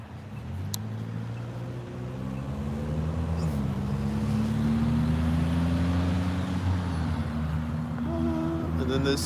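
A semi truck drives past on a city street at an intersection, a low rumbling diesel engine with rising and falling tones, steady and moderately loud over general street noise.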